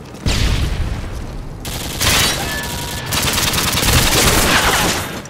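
Dense bursts of automatic gunfire from a first-person shooter video game, loud and continuous with short gaps between sustained volleys, heard close up without any talking.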